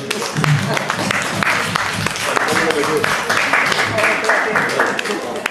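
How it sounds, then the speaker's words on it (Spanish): Steady crowd applause fills a tango dance show honoring dancers Daniel and Graciela, a dense, continuous wash of clapping with voices mixed in throughout. "Nos recibimos con un gran aplauso"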